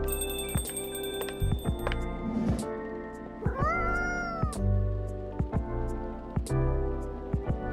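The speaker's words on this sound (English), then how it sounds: "This just could be a straight up cat." A cat meows repeatedly in Coffee Talk Episode 2: Hibiscus and Butterfly, on Xbox Series S, its clear calls rising and falling over a steady background of game music with chime-like tones.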